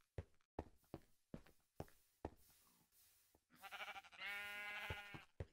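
Sheep bleating in the video game Minecraft, a wavering nasal bleat rising near the end after a run of sharp knocking or footstep-like taps, heard fairly close and alone with no talk.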